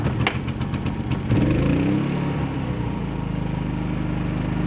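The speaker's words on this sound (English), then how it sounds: "That is a good generator." A Generac inverter generator is pull-started with a few sharp rattling pulls, then catches and settles into a steady, close, loud running drone that continues to the end.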